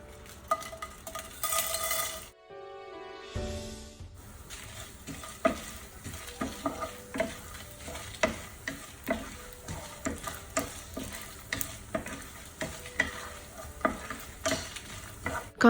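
Masala spices with coconut frying in hot oil for a Chettinad-style mutton curry, a steady sizzle punctuated by regular spoon scrapes and taps against the pan, after a short loud burst and a moment of silence early on.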